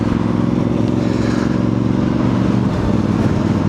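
A Voge DS625X motorcycle is ridden at steady speed, its engine droning loud and close under heavy wind rush, with a slight easing of throttle near the end.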